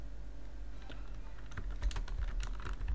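Fingers typing a file name on a computer keyboard, a short irregular run of soft key clicks that grows a little busier toward the end, heard close over a faint steady room hum.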